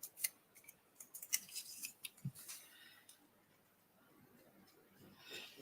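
Paper being snipped with scissors while decorating journal pages: several quick, crisp cuts in the first half, then a softer rustle of handled paper, fairly faint and close.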